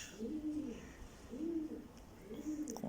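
A young pigeon chick cooing in three soft, evenly spaced low calls, faint and close, with no other sounds around it.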